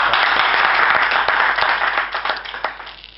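Audience applauding Congolese referees at a football federation meeting, a dense burst of clapping that starts loud and steadily thins out over about three seconds.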